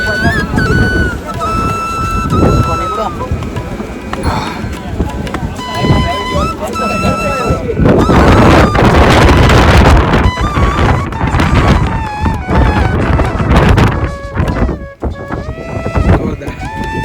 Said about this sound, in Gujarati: બહુ જોરદાર પવન છે. આમ સિસકાટેલા નાખે ને એવો પવન છે.